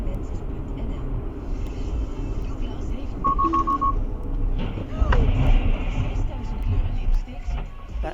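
A Tesla sounds its Autopilot warning beeps just before an accident: a short run of rapid, evenly spaced tones over a rumble of road and traffic noise.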